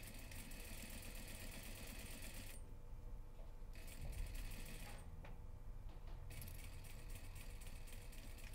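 A sewing machine stitching a small fabric bag runs steadily, a continuous whirring drone with brief dips in its higher buzz, close and fairly even throughout.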